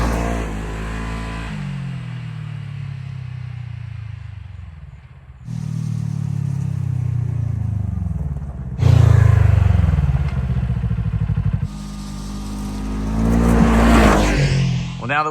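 A car is driven on the road to bed in newly replaced rear brakes, with engine and road noise surging through several accelerations and slowdowns, close and steady throughout.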